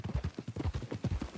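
Horse hooves clip-clop in a quick, even trotting rhythm in the video game Red Dead Redemption 2, close and fairly quiet with no other sounds.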